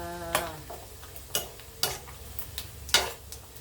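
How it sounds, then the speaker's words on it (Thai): Hot oil sizzles steadily as pork rinds deep-fry while a utensil scrapes and knocks against the pan every second or so, occasional clinks standing out over the frying. "ต้องทอดให้กับกรอบนี่ค่ะ"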